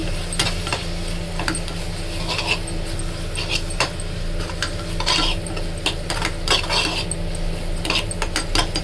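A spoon stirring a chutney mixture with coriander powder in a hot pan, steady loud sizzling under repeated scraping and clinking of metal against the pan.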